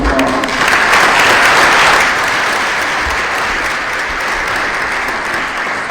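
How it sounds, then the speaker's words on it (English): Steady, loud applause from a town hall audience fills the room, a dense wash of many hands clapping that holds strong throughout before easing slightly toward the end. "Let's give our panelists another round of applause."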